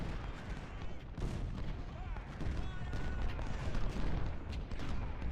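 Battlefield gunfire in Ultimate General: Civil War, with musket volleys and cannon booms blending into a steady, distant-sounding rumble and crackle that rolls on without a break for several seconds.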